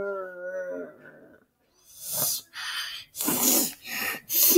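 A dog howls in a drawn-out wavering tone, then breaks into several loud, ragged bursts like snorts or gasping yelps, close and with no talking.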